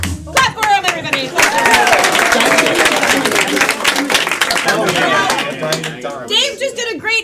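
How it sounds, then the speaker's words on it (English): Audience clapping at a live game-show event, dense and fairly loud, with voices and crowd chatter mixed in throughout. "Clap for him, everybody."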